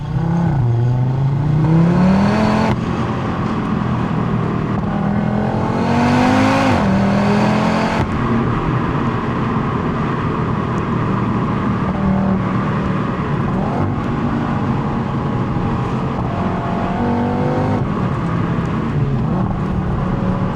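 An Audi RS3 engine revs and accelerates through rising gears, loud and close, with shifts every few seconds and a steady roar in between.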